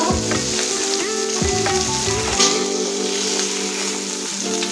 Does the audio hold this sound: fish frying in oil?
yes